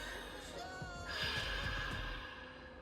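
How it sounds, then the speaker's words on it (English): Ocean breathing through sealed lips gives a soft, steady breathy hiss with a slight throaty rasp, quiet and close, swelling a little midway with no talking. "I'm gonna turn off this sound so you can hear my ocean breathing"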